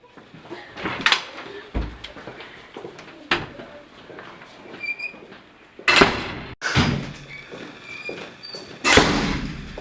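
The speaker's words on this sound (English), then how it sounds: "Open this damn door!" A door is forced open with repeated loud, close bangs and rattling jolts coming in irregular bursts, separated by quieter scraping and shuffling.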